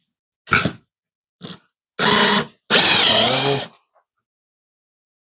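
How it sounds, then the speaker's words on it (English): A power drill drives a 3-inch screw into a wall stud in a few close, loud bursts, short pulls and then a longer final run, separated by silence. "I'm going to run my first screw in."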